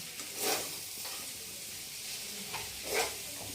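Chow mein stirred and fried in a pan, giving a steady soft sizzle with two louder scraping stir strokes, close and on its own without voices.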